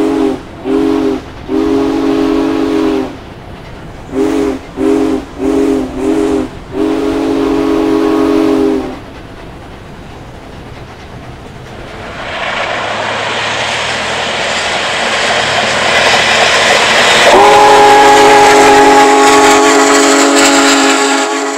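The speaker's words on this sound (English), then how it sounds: "You want to blow the whistle?" Union Pacific's Big Boy, the world's most powerful steam locomotive, sounds its steam whistle in a series of short, loud blasts and then one long one, followed by roaring steam and engine noise with a steady tone rising near the end.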